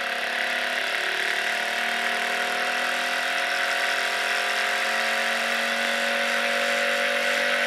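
An electric motor spins steadily at 2800 RPM under a motor controller, giving a continuous whine with stable tonal bands at even loudness throughout, alone without talk.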